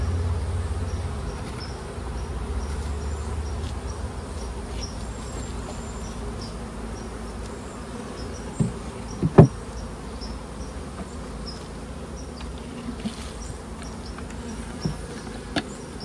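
Honey bees buzzing around a hive during an outdoor inspection, a dense continuous hum filling the whole stretch, with a few faint knocks and no talk.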